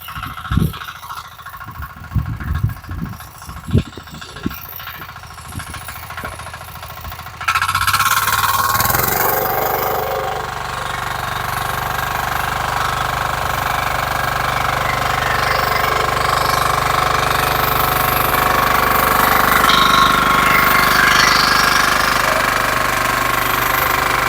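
A power tiller engine runs in a turmeric field. Irregular knocking and clattering bursts come first, then the engine revs up into a loud, steady drone that holds until the end.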